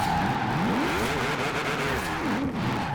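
A V8-swapped Rocket Bunny MX5 drift build in Forza Horizon 4 wails loudly as the driver kicks the clutch, its revs sweeping up and down in rapid surges over a constant tire and exhaust roar.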